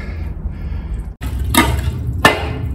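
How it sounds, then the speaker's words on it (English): A buried Victorian glass bottle is struck twice by a digging tool in sludge below an old factory, giving two sharp, close clinks about a second apart over low rumbling background noise. "That is the sound of a bottle."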